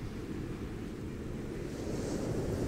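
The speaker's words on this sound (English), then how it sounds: "I'm at the beach" Ocean waves wash against a beach in a steady low roar, mixed with wind rumble across the microphone, with no voices heard.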